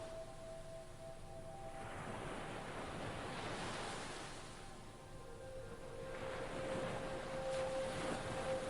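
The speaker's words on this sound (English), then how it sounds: "walking to the rhythm of the waves as they break on the shore." Ocean waves break and wash onto a sandy shore at night, a broad rushing surf swelling and receding in slow surges, steady and fairly close with a faint wind underneath.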